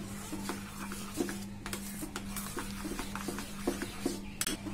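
Chopped carrots and vegetables are stirred in a pan while making a Maggi omelette, giving soft repeated scraping and light clinks of a utensil against the pan over a steady low hum, with no talking.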